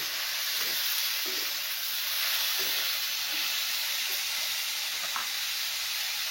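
Mustard seeds crackle and sizzle in hot oil during tempering for a kurdai vegetable dish, a steady bright hiss with faint scattered pops, close and continuous with no talk.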